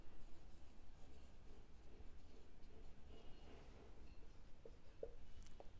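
A pen scratches out an accounting journal entry on paper, giving faint, continuous close-up scratching and rubbing strokes with a few small ticks in a quiet room.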